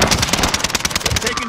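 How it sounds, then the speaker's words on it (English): Rapid automatic gunfire from a Call of Duty Modern Warfare Warzone payload match, a loud, dense stream of shots with no pauses, with faint game voices underneath. "shots."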